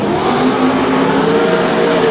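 Super rod race cars roar around a dirt oval in a tight A-main pack, several engines droning loud and steady at once with a sustained, slightly rising engine whine and no voices.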